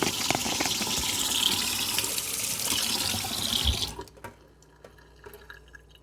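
Tap water runs in a steady hiss and splash over a cheap solar garden light, then cuts off abruptly partway through, leaving quiet room tone with a few faint drips and knocks.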